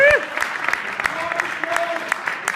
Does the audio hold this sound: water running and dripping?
no